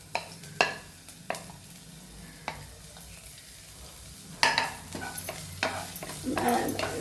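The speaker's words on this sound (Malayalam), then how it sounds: "പാൻ ചൂടായതിന് ശേഷം അരിഞ്ഞു വെച്ചിരിക്കുന്ന ഇഞ്ചിയും വെളുത്തുള്ളിയും കൂടെ ഇതിലേക്ക് ഇട്ട് കൊടുക്കുക" Chopped ginger and garlic sizzling in a hot pan for a ladies' finger side dish, a soft crackle broken by sharp clinks of a spoon against the pan, with the sizzle swelling louder toward the end.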